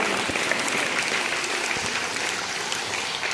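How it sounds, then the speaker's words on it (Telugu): An audience claps for teachers at a school stage event, dense sustained applause from a crowd, loud and even throughout with no breaks. "give clap for the teachers అందరూ చేతులు కొట్టండి చప్పట్లు కొట్టండి"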